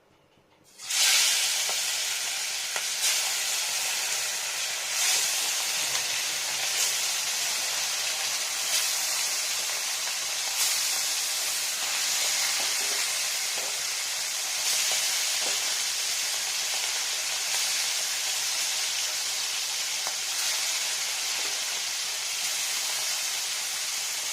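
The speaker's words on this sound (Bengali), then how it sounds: "লবণ আর হলুদ দিয়ে ভেজে নেওয়া হচ্ছে প্রথমে" Small rohu fish coated in salt, turmeric and mustard oil sizzle loudly in a pan, a steady close hiss that starts abruptly and holds unbroken throughout.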